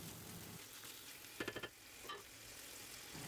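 Steady sizzling of chopped peppers and chicken breast frying in a pan, with a quick run of clinks and scrapes from a utensil stirring partway through.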